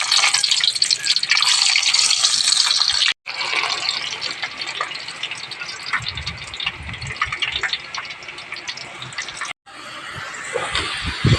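Jackfruit chips frying in hot coconut oil, a loud, dense, steady sizzle and crackle up close, continuing with only brief breaks and no talk.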